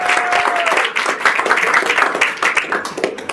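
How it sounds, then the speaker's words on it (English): Audience applause at a radio station's hall of fame induction dinner: loud, dense clapping from a crowded room that holds steady throughout, with a few voices mixed in. "You can clap that."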